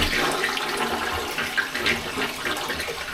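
A Japanese toilet with a heated seat flushes, a close rushing gush of water swirling and draining steadily, with no talk over it.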